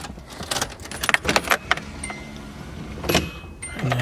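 A key ring jingling as the ignition key turns in a Nissan 240SX during a digital boost gauge install: close metallic jangling bursts, then quieter clicks and a faint electrical whine toward the end.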